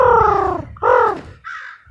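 A person imitating a crow, giving two loud, close, drawn-out caws followed by a shorter, fainter call, with no other sounds.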